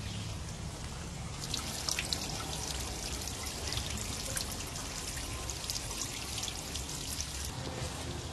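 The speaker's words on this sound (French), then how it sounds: "on soulève l'avant de la machine afin d'évacuer l'eau qui se trouve" Water drains out of a jet ski's bilge with the drain plugs open and the bow lifted, a soft continuous trickle and splatter of pouring water, steady and fairly quiet throughout.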